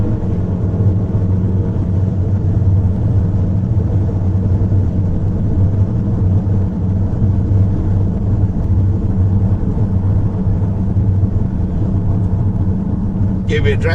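Steady low engine rumble and road noise fill the cabin of a Rolls Royce Cullinan SUV driven briskly on Malaysian roads, continuous and even throughout.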